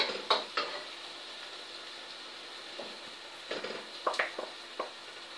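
Beaten eggs hit a pan of frying potatoes, giving a soft continuous sizzle broken by several sharp spatula scrapes and clinks against the pan.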